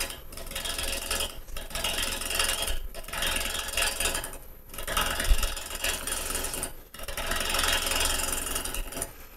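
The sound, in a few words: gouge roughing a wooden bowl on a lathe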